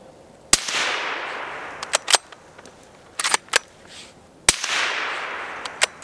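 A .30 caliber rifle fitted with a YHM Resonator K suppressor fires 78 grain ammunition outdoors: two sharp, loud, muffled reports about four seconds apart, each trailed by a long echoing rumble, plus smaller clicks from handling between shots.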